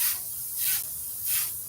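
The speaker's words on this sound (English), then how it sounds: "just move it as you spray" An airbrush sprays paint through a texture stencil for a cross-hatch pattern on a pirate skull design, giving two soft, rising hissing bursts between quieter stretches of faint airflow.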